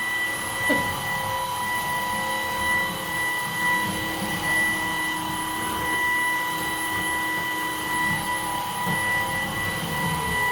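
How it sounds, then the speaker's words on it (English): A Maircle S3 stick vacuum cleaner runs steadily on a linoleum floor, a loud continuous motor whine with sharp tonal hum and a rumbling resonance from the floor underneath, holding constant throughout without pauses. "It's a powerful stick vac."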